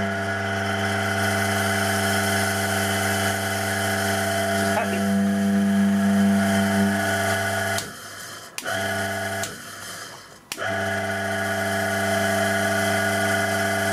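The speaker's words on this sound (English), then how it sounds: "We have a good three-phase motor." Three-phase electric motor running straight off the supply without a variac while held down on a bench: a steady, close hum with strong tonal whine, briefly interrupted by a few knocks and dropouts before settling back to an even drone.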